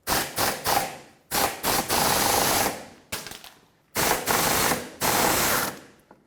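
Impact wrench bursts spin a mounting nut off a stud on a 2009-2014 Ford F-150 with the 5.4L engine, five loud close rattling bursts separated by short pauses.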